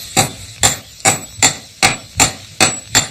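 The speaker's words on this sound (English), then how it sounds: "Peter and Martin will hammer the iron flat and then bend it at 4 corners, making a stirrup shape." Blacksmiths hammering iron flat on an anvil: eight sharp, ringing metal blows in a steady, even rhythm, loud and close with no talking.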